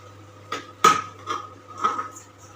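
A utensil knocks and scrapes in a pot of Govindobhog basanti pulao with cashews and raisins, a few separate metallic clinks and scrapes spaced over a couple of seconds against a low steady hum, no voices.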